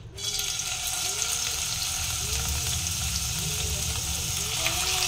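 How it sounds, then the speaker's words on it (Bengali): Prawns fry in hot oil in a pan, a loud, continuous crackling sizzle that holds steady from start to finish, close up, with no talking. "এখানে চিংড়ি মাছগুলোকে আগে ভেজে নিই"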